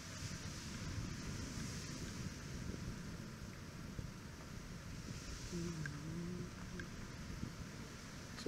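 Steady roar of rough surf on a Jamaican coast and wind rushing across the microphone, continuous and fairly loud, with a faint engine hum surfacing briefly near the end.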